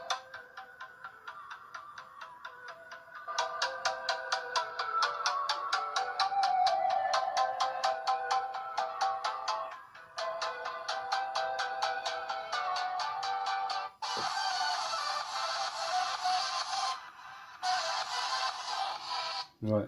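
Music plays through the small loudspeaker of a Doogee Shoot 2 phone, thin and tinny, with choppy dropouts and breaks, faint and heard from close by.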